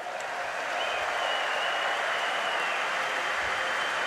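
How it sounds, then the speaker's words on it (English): An opening-ceremony crowd at the Invictus Games in Düsseldorf applauds in a broad, steady wash of clapping that holds at an even, loud level throughout. "Please give a big round of applause."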